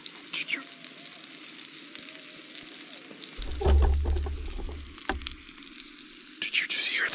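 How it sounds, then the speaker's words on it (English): Trout frying in a pan over a campfire, with a soft continuous sizzle and bubbling, a low rumbling burst partway through, and brief clatters and quiet voices around it. "with the bubbling of the fish"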